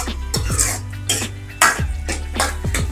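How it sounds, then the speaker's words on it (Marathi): Masala paste of onion and tomato with a little salt being stirred and sautéed in a pan for a Kolhapuri-style shev bhaji, with intermittent scraping and clinking of a spoon against the pan under a low hum. "मिक्स करायचे आणि 2 ते 3 मिनिटं आपण पेस्ट परतून घ्यायचे।"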